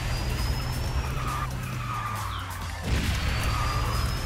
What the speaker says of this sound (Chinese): 我在甩尾的时候